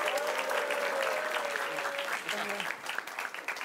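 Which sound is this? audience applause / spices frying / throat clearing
audience applause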